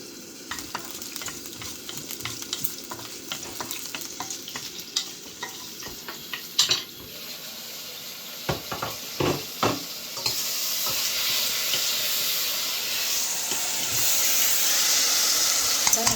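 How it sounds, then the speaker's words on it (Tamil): Mustard seeds, urad dal and two dried red chillies temper in hot oil for a stir-fry, starting with spoon clinks and scattered crackles before building into a steady, louder sizzle. "கடுகு தாளிச்சிக்கலாம். கடுகு, உளுத்தம்பருப்பு, 2 வரமிளகாய்."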